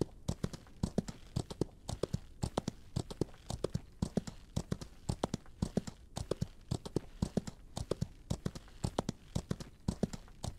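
Horse hooves clip-clop in a steady, quick rhythm in the video game Outlaws of the Old West, close and continuous throughout with no talking.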